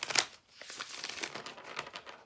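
Animal Oracle cards are shuffled by hand, producing a quick run of papery riffling and crinkling flicks, close and fairly quiet, with a brief pause near the start.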